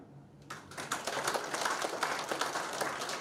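A crowd applauds, dense clapping swelling quickly and holding steady at moderate loudness for a few seconds.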